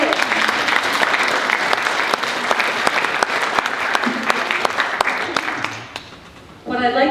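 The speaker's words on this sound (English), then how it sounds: "a round of applause for our panel" An audience applauds a panel at a museum founders presentation, steady dense clapping for about six seconds before fading, followed by a voice speaking.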